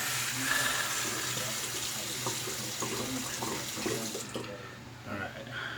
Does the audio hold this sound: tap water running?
yes